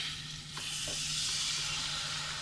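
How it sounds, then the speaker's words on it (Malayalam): Chilli, coriander and turmeric powders sautéed in a pan for a Kerala-style red cowpea curry, giving a steady frying hiss that swells after a brief soft knock, close and fairly quiet, with no talking. "ഈ മുളകിൻ്റെയും മല്ലിപ്പൊടിയുടെയൊക്കെ മഞ്ഞൾപ്പൊടിയുടെയൊക്കെ മണം മാറുന്ന വരെ ഒന്ന് വഴറ്റിയെടുക്കുക"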